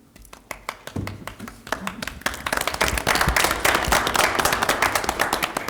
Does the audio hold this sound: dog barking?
no